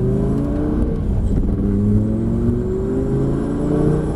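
Lamborghini Gallardo accelerating hard on the Lédenon race circuit, a loud continuous engine drone with rising harmonics as revs climb steadily, heard close without pauses.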